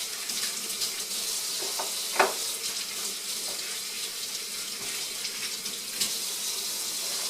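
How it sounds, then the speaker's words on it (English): Tap water runs steadily into a kitchen sink as hands are washed before assembling corned beef, a continuous hiss with a couple of brief splashes and clinks, moderately close and without talk. "let me wash my hands"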